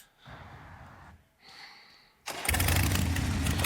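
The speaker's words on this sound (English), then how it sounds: "that's not Brie Larson riding off on a motorcycle" A motorcycle revs and rides off in a film scene, starting with faint engine sputters before a sudden loud, sustained roar takes over.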